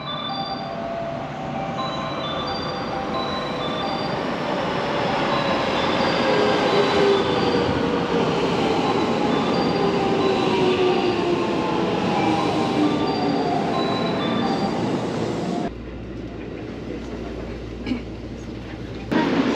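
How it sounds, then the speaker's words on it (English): A train pulls into a quiet Kyoto platform, its wheels squealing and screeching in long high-pitched tones over a steady rolling rumble that eases off near the end. "Here's the train."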